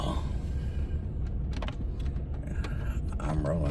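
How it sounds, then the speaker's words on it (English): A vehicle creeps slowly down a wet driveway, a close steady low rumble inside the cabin with light rattling, jangling and small clicks over it. "I'm rolling down my driveway real slow."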